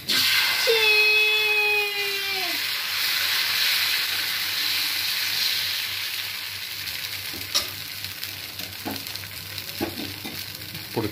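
Dosa batter and oil sizzle on a hot pan, a steady close frying hiss that fades slightly over time, with a few brief clinks and scrapes and no talking.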